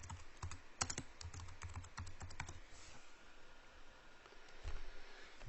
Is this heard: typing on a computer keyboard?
yes